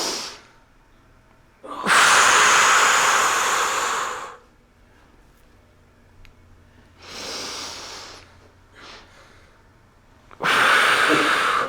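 Sharp, loud sniffing inhales and breaths come in three bursts separated by quiet pauses during a Pilates stick class at a Maui hotel.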